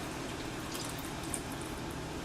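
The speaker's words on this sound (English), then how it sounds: "I'm going to go ahead and pour my chicken stock" Chicken stock pours steadily into a pot holding beef for a pot roast, a continuous soft splashing, liquid rush close by and fairly quiet, with no voices over it.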